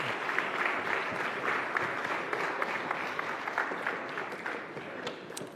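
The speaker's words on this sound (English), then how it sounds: "Can we please give one last round of applause to the President?" An audience at a high-level business engagement applauds the President: dense, steady clapping fills the whole stretch at a moderate level, with no voices over it.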